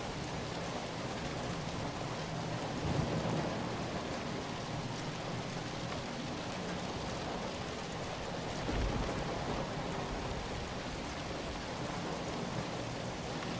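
Steady rain falls in a thunderstorm, a soft, even hiss of drops on a surface with faint low rumbles swelling twice, continuous and without any voices.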